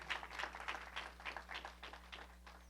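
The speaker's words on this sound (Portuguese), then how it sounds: "Você pode aplaudir a Jesus, pode continuar de pé." Audience applause in a church service, a steady patter of many hands clapping at a moderate distance, faint over a constant low electrical hum.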